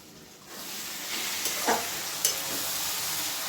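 Spice paste of ginger, garlic, coriander and cumin sizzling and frying in a pan, with a steady close hiss and a couple of brief stirring scrapes, no voices.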